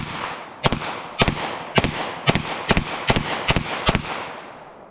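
A Kimber 1911 Next Generation pistol fires 9mm 115 grain rounds in eight sharp, loud shots at a fairly steady pace of roughly one every half second, each with a brief echo over faint outdoor background.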